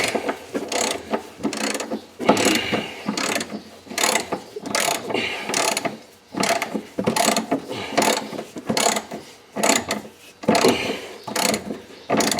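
A ratchet clicks rapidly in repeated bursts with brief pauses between runs, running bolts on a 1999 Chrysler 300M rear trailing arm, close and fairly loud, no voices.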